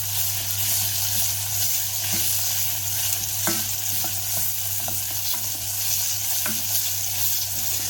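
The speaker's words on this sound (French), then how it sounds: "on va faire revenir un peu tout ça." Chopped onion, garlic and bell pepper sizzle steadily in a hot pan, a close, continuous frying hiss broken by occasional stirring scrapes and clinks, with no talking.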